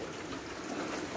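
Rain falls steadily against the outside of a rain gutter along a roof eave, a soft continuous patter and trickle of water with no voices.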